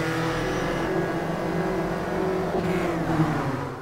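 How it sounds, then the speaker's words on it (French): Volkswagen Scirocco Cup race car engine in the racing game Automobilista, a steady loud drone held near and up close, with a slight pitch dip near the end and no voices. "Voilà donc pour le son qui n'est pas forcément de qualité exceptionnelle sur cette Sirocco Cup"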